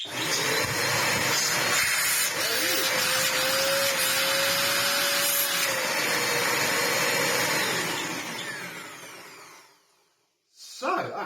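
An Ewbank Motion EW3001 vacuum cleaner runs loud and close with a steady whooshing motor roar and a whining tone, winds down near the end and briefly starts up again.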